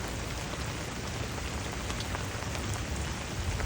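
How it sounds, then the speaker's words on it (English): Steady rushing water pours out of a sump pump drain continuously, a dense hiss like heavy rain with no breaks and no voices. "Water's running out."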